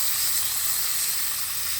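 Deer steaks sizzling in a frying pan, a steady, bright hiss of fat and juices that runs evenly without pause, close and moderately loud, with no talking over it.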